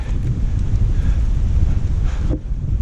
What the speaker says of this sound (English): It's real windy right here.